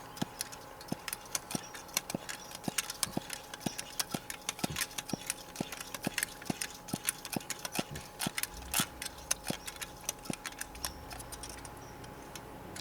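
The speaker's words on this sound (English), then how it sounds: "Now if it is full, give it about 30 pumps." Hand pump on the fuel tank of a Coleman white gas camp stove being worked steadily, a regular series of close, crisp clicking strokes with a faint squeak, repeated evenly about twice a second with no talking.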